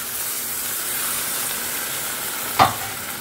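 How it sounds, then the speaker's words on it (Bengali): Steady, close sizzling hiss from a pan of prawn Manchurian as a little water is added for gravy, with one brief clink near the end. "গ্রেভির জন্যে একটু জল দিতে হবে, ভাত দিয়ে খাওয়া হবে তো অল্প একটু জল দিচ্ছি"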